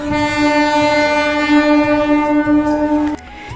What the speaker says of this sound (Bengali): কিছুক্ষণ দাঁড়ানোর পর চলে আসলো ট্রেন।